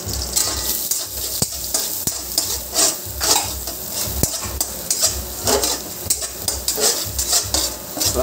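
Garlic sizzles and fries in a hot pan while a utensil stirs it steadily, with repeated scraping knocks against the pan over a continuous crackle, close and alone, for a fish tuna kaldereta.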